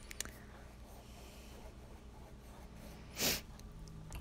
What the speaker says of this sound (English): Sorry, I keep sniffling.